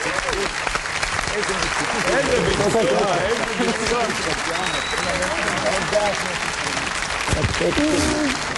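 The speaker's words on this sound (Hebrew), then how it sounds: "מחיאות כפיים" An audience at a tribute performance applauds with sustained, loud clapping, mixed with voices and cheering throughout.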